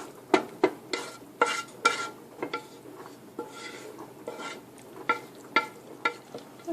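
A spoon scrapes and taps as green bean and hamburger casserole mixture is spread evenly in a baking dish, a string of irregular soft clinks and scrapes close by with no talking.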